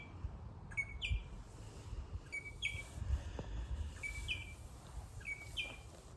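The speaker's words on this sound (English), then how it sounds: "The birds sound beautiful." Birds chirp and sing outdoors in a steady series of short, bright repeated calls at moderate distance over soft ambient background.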